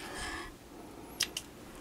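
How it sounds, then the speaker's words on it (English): Scissors cut knitting yarn at the end of a toe-up sock; two quick, faint snips close by in a quiet room after a brief soft rustle. "I'm going to cut my yarn,"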